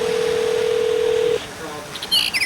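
A telephone dial tone hums steadily, then cuts off and gives way to a few quick touch-tone dialing beeps as a call is placed, with a faint background murmur.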